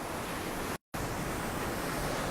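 Ocean waves wash steadily beneath a patio set right over the water, a broad, continuous rushing surf that stays loud throughout with one abrupt brief dropout near the start.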